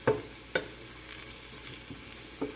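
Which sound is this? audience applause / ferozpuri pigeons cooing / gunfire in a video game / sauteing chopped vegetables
sauteing chopped vegetables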